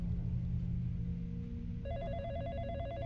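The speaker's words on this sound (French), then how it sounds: "là il y a le téléphone qui sonne" In the horror video game Sadako Project, a faint telephone begins ringing partway through, with a steady electronic trill rising over a low rumbling ambient drone.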